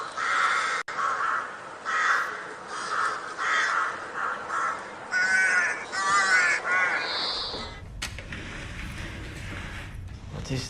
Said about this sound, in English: What is this? A crow.